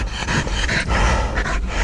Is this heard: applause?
no